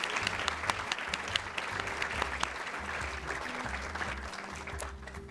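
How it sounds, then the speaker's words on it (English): Applause for honorees at a school district Hispanic heritage celebration, a moderately distant round of many hands clapping with scattered sharper claps, over a low humming background tone. "Let's give a big round of applause of all of our honorees"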